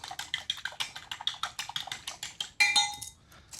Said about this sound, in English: We'll give that a nice good mix.